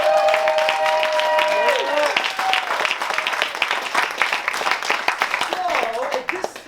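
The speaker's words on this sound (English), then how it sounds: "let's give them one more big round of applause" An audience applauds a theater cast after a Twelfth Night performance, with loud clapping and cheering voices, plus whoops and shouts scattered over the steady applause.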